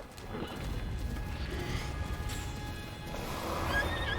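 A horse whinnies in The Legend of Zelda: Breath of the Wild, a fairly faint call over low rumbling game ambience, with a brighter cry near the end.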